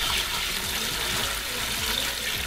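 Water from a bucket pours steadily onto a plastic bag floating in a saltwater aquarium, a continuous close splashing rush with no voices.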